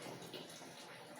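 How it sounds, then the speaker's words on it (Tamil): Tap water flowing straight from a pipe into a container, a steady even gushing rush with no breaks, fairly quiet and close. "இப்போ நான் வாங்க பைப்பில் நேராக ஓசி போட்டு தண்ணி பிடிச்சிக்கிறேன்"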